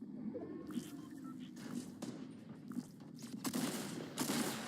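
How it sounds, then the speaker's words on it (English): Rapid gunfire in Fortnite around Dusty Divot, a run of sharp, fairly distant shots scattered through the stretch, crackling over a steady low game rumble. "Can't tell where I'm getting shot at"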